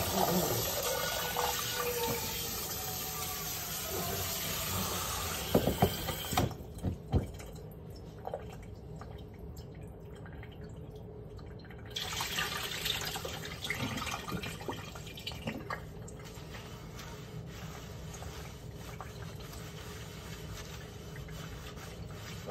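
Hot water runs from a kitchen tap into a sink piled with dirty dishes, a steady close splashing that drops back partway through, with a few clinks and drips, no talking.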